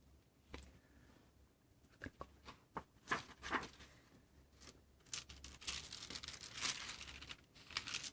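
Quiet crinkling and rustling of laid paper in an old book being handled, with soft flicks and scrapes in irregular bursts, close by.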